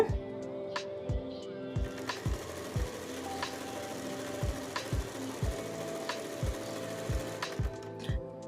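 A sewing machine zigzag-stitches the edge of a thin saree fabric, producing a steady, rhythmic mechanical clatter with regular needle thumps, close and loud, with no talking.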